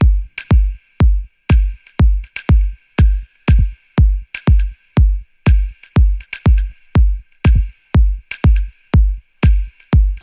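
Sharp finger snaps with a short echo trail land over a steady kick drum, about two hits per second in an even groove for ten seconds, loud and close with no voices.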